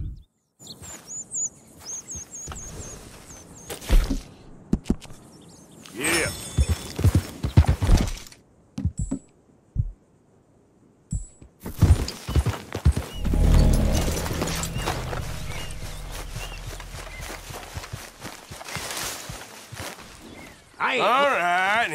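A horse in Red Dead, a male piebald tobiano Hungarian Halfbred, clops along in bursts of hooves, with a whinny and outdoor birdsong; someone speaks at the end.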